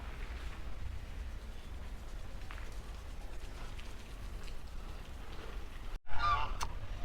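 Ducks quack faintly and sporadically at an outdoor Karnataka folk heritage site, under a steady wash of background noise, with a brief cut near the end.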